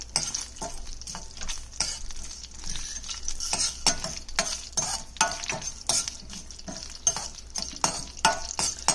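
Chana dal and urad dal roast in a pan for cabbage pachadi, a soft sizzle underlying repeated scraping and stirring strokes of a spoon against the metal pan, close and irregular.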